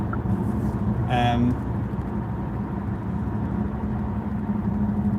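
Car engine and road noise from inside a vehicle moving through heavy traffic: a steady low rumble continues throughout, with a brief brighter whine near the start.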